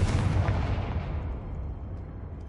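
Confringo blasting curse explosion in the Hogwarts Legacy game, a loud booming blast that starts strong and fades into a long rumbling decay, with no talk.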